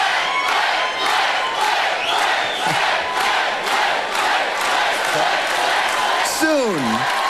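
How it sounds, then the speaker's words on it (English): Large concert crowd at a show, cheering and roaring in a continuous loud wash, with scattered whoops and a voice rising near the end. "in that crowd where all the noise is"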